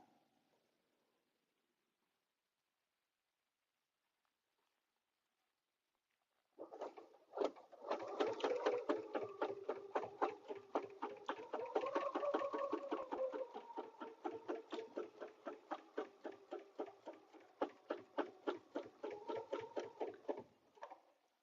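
After a silent opening, a sewing machine stitches a vinyl zipper bag with a quiet but steady, rapid rhythmic clatter that continues to the end.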